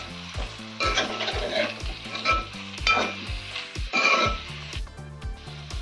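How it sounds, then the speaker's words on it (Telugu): Gongura chicken fries in a pan as it is stirred with seasoning, giving a bubbling sizzle with repeated scraping strokes and soft low gurgles in an uneven rhythm, with no talking. "ఇప్పుడు చికెన్కి మొత్తం తాలింపు పట్టేలా కలుపుకోండి ఫ్రెండ్స్."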